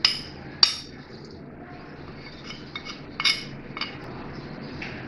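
Spoon and bowl clinks ring out while qeema marinade is mixed with chickpea powder and spices, a few sharp metallic taps and soft scraping over quiet room noise.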